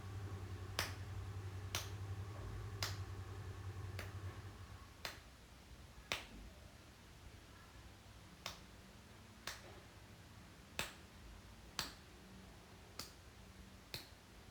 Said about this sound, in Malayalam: ചേമ്പും നുറുക്കി നമുക്ക് കപ്പ അങ്ങോട്ട് കൊത്തിയിടാം